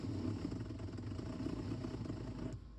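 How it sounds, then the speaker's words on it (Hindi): Mahindra Scorpio N with a six-speed manual gearbox giving noise while shifting into third gear, a close rumbling engine drone with rough clattering texture that fades toward the end. "ये थर्ड गियर पे आवाज़ आ के गियर हो रहे हैं शिफ्ट।"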